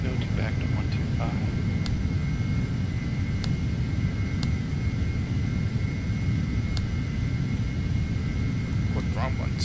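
Embraer jet taking off in the FSX flight simulator, a steady low engine rumble and roar holding constant throughout, with faint clicks and beeps overhead and voices intermittently present.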